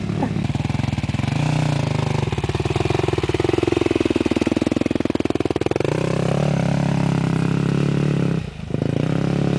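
A motorcycle engine revs hard while riding through deep sand, a loud, close, rough drone rising and falling in pitch for the whole stretch, with a brief dip near the end.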